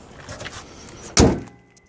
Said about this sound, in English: Let me shut the hood.